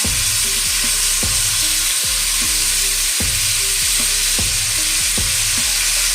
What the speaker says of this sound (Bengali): এবার ডাটার মধ্যেই আমি চিংড়ি মাছ দিয়ে দেবো আলাদা করে ভাজছি